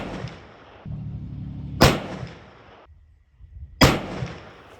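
A muzzleloader rifle loaded with a 240-grain XTP bullet in a crush rib sabot over a 150-grain Pyrodex charge fires: two sharp, loud, close reports about two seconds apart, with quieter rustling between them.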